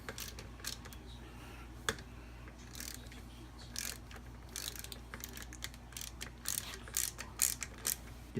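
Ratchet clicks in short bursts as bolts on a Barnett clutch for a Kawasaki KE100 dirt bike are snugged in a crisscross pattern, close and fairly quiet, with brief pauses between bursts and no talking.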